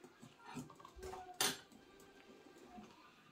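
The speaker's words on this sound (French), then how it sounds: "Là, on va touiller." A utensil stirs yogurt cake batter with sugar for an apple cake, producing quiet, close clinks and scrapes against a bowl, with one sharper knock partway through.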